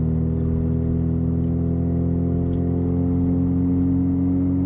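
Old MG TC car engine revved for testing, a steady loud mid-range engine drone with strong harmonic tones holding nearly constant, close by and alone without speech.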